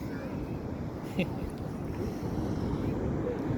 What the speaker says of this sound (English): it's a good meditation being out here, just watching the rolling waves